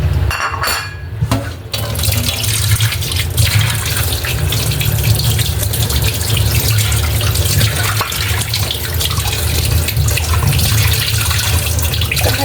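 Tap water runs in a steady, loud rush while raw chicken is washed before marinating and frying, with a brief clatter near the start and no talking.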